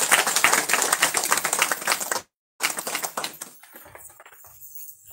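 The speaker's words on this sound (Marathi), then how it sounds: "प्रार्थना केली त्याच्यासाठी टाळ्या वाजवून द्या." A church congregation claps after a prayer, a loud dense burst of rapid hand claps that cuts off abruptly, then resumes more thinly and fades out.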